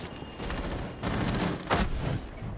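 Shotgun blasts in a competitive video game tournament match, several loud booming shots in quick succession over a continuous dense background of gunfire and game noise, with no talking.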